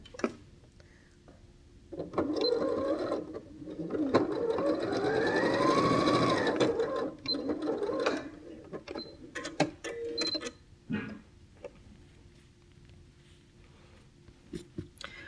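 Domestic sewing machine stitching two quilt pieces together for a tulip block, a steady mechanical whir rising and running for several seconds, then light handling and fabric rustles.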